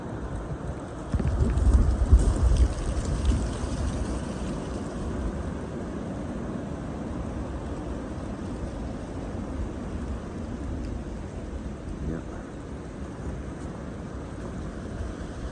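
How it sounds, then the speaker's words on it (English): Steady, heavy November wind roars and buffets at a camp in Maine throughout, a dense low rumble with a stronger gust near the start, no voices. "Very, very windy."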